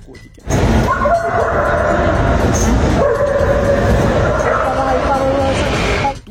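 Security dogs at a Philippine airport checkpoint barking and yipping repeatedly, close and loud, with whimpers between barks and voices talking underneath.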